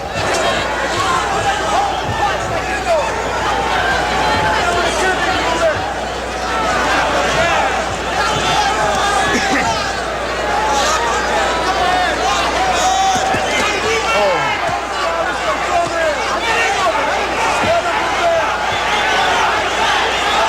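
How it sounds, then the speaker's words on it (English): A boxing crowd at the Chavez vs Castillo fight cheers and roars as a dense, steady wall of noise for the whole stretch, loud and unbroken, with a few sharper shouts rising out of the babble. "This crowd, it's almost as though we've turned on a switch. Listen to the crowd now."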